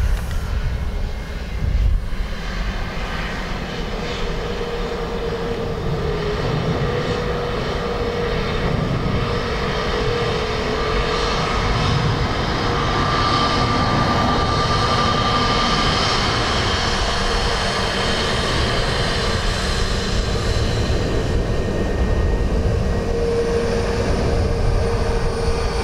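A fixed-wing airliner arrives at Dublin Airport, its engines producing a loud, steady roar that holds for the whole stretch with no speech over it.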